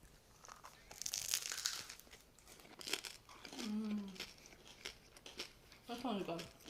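Crunchy baguette crust, baked in an Anova Precision Oven, crackles in a few crisp bursts of biting and chewing, close up, with people talking between the bites.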